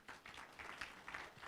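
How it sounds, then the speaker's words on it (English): Audience at a polytechnic conference applauding, a brief, faint, distant patter of clapping hands with no one speaking. "Let's give a good clap."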